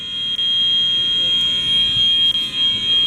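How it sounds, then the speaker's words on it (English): A building fire alarm blares continuously at close range, a loud steady buzzing tone with a few brief dips, sounding alone without speech. "the fire alarm just started going off really bad"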